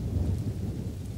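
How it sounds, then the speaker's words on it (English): Steady, dense rain with a low rumble, falling as the weather turns, continuous and fairly close with no voices. "It's starting to rain."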